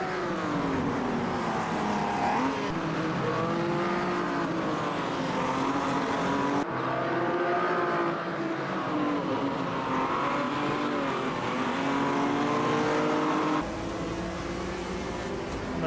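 Heavy muscle car in the Automobilista 2 racing game, its engine droning loudly and continuously as revs rise and fall through corners and gear changes, with no talking over it.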